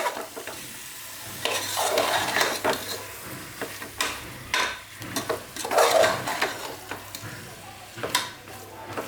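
Chicken pieces being stirred in a sizzling curry pan, with a spoon scraping and clattering at irregular intervals over a steady close-up frying hiss; no talking.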